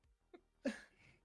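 A single short sneeze sounds close and fairly quiet, a brief sharp burst of breath preceded by a small intake.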